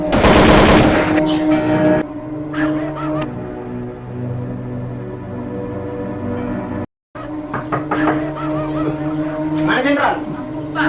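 Gunfire in a school drama staging of the G30S/PKI events, a loud burst of rapid shots at the start, then sustained rumbling and tonal noise with people talking over it.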